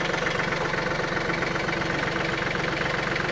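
A vehicle engine idles steadily with a close, throbbing, slightly knocking rumble while the vehicle slowly backs up at an old well site, with no voices.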